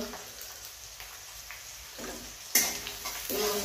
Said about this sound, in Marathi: कांदा व्यवस्थित खरपूस तळून घ्यायचा आहे